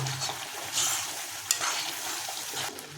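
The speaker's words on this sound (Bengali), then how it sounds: "আমুল বাটার যদি আমরা বাটার যোগ করেছি এটা ভালোভাবে এটা গুলিয়ে নেব" Paneer curry with Amul butter being stirred in a pan, a soft continuous sizzle with gentle scraping and one brief clink of the spoon, heard close with no talking.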